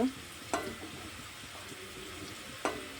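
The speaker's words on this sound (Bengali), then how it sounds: "আলুটা ভাজা হয়ে গেছে" Potatoes frying in oil give a soft, low sizzle, broken by a few short scraping stir sounds from a spatula.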